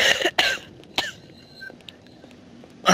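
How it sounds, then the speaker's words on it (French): A person coughs close to the mic, several sharp bursts at the start, a pause with faint background noise, then another cough at the end. "tu tousses comme ma mamie"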